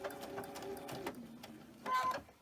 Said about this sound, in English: and then just start sewing onto it.